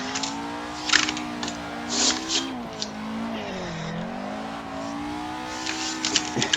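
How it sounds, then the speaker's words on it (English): A car drifting around the Ebisu School Course in Assetto Corsa, its engine revving in rising and falling sweeps with bursts of tire squeal scattered over the steady drone, no voices. "Let's try and hold those drifts through it."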